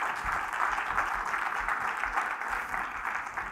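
A church congregation at a Spanish-language service applauds, giving a steady, fairly loud wash of clapping throughout with no speech over it.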